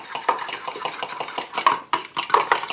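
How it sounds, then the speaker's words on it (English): A fork whisking eggs in a bowl for naan dough: rapid, close, rhythmic clinks and scrapes of metal against the bowl, continuous and unaccompanied by voices. "for this part, we are just going to use our fork and just kind of mix this all together."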